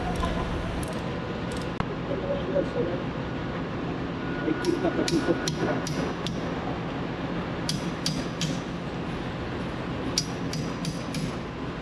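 Sharp metallic taps from a hammer striking the nut of a marine fuel oil injector for a 6S70MC-C7 engine, in irregular bursts of several quick hits, close by over low background noise.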